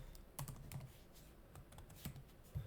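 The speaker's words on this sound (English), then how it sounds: "So we'll go back to the search function, and we type in Waynesboro." Quiet, close typing on a computer keyboard into an app's search box, a light scattering of individual keystroke clicks over a low background hiss.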